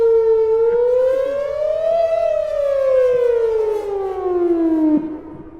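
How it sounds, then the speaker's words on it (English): A civil defense siren test in Wadsworth, Ohio wails loud and steady, its tone rising then slowly falling as the rotating horn sweeps, before dropping off near the end with no talk over it. "I couldn't hear it over the siren."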